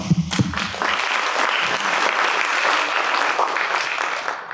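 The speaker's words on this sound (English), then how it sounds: "Give him a round of applause." Audience applause for a volunteer called up on stage at a live seminar, a dense steady clapping that starts after a brief burst of noise and holds at even strength for several seconds before tailing off.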